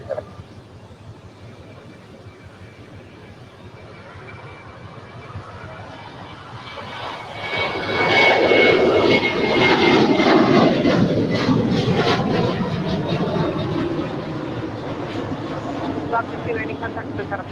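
A heavy airliner on takeoff from runway 25 right at LAX, a broad rumbling roar that swells after several seconds and holds steady and loud, with radio chatter from air traffic control in the background.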